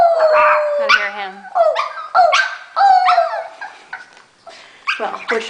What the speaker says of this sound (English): his howling